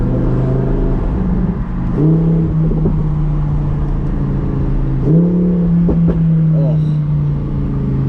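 A Lamborghini Huracán Performante engine revs up twice, rising to a loud whine and dropping back, with crackling exhaust pops as the revs fall; a brief exclamation is heard.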